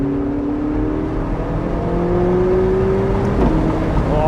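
A McLaren 675LT Spider MSO Carbon Series sports car drives on a bumpy road, its engine note droning and rising steadily with a whining tone over constant road and wind roar, heard from inside the open car.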